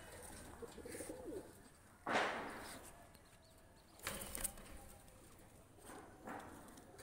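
Pakistani pigeons coo softly and low, broken by a few sharp bursts of flapping wings.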